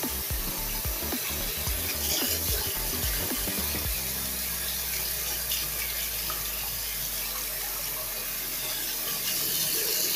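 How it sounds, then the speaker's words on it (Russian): Hot water runs steadily from a tap while a Philips 1000-series electric shaver is rinsed, a broad continuous splashing hiss that settles into an even flow after a few seconds of louder, uneven gushing. "Запускаем горячую воду."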